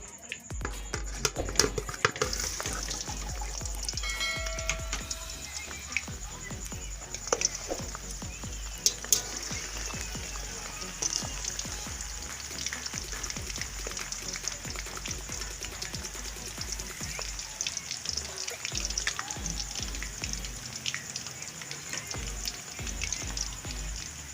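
Kofta bubble and crackle in hot oil in an unbroken, fairly quiet sizzle with a few sharp pops and clinks near the start, and no voices.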